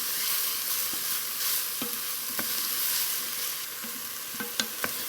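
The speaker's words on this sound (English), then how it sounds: "saute that off to soften them up" Vegetables for chicken and wild rice soup sauté gently in a pot with a steady, soft sizzle, punctuated by a few sharp clicks of a spoon against the pot.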